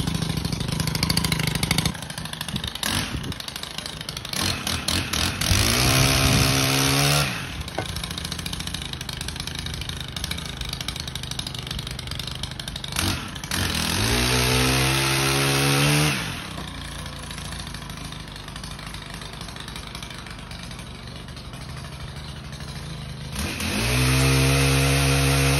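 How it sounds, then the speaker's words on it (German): A Stihl pole pruner's small two-stroke engine starts and runs close by, alternately idling and revving up in three loud surges before settling back, with a raspy, crackling exhaust. "Springt er schon mal gut an."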